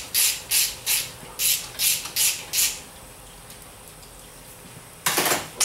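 A ratchet clicks in quick bursts while loosening the center support bolt of a TH400 transmission: seven short close ratcheting runs, then a quiet pause with faint hiss, then another brief burst.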